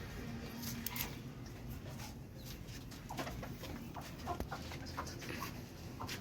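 Chickens cluck intermittently in a coop, with scattered soft bird calls over a quiet, rustling background.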